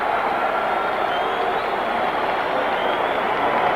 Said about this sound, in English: Crowd roars now as Muhammad Ali comes down the aisle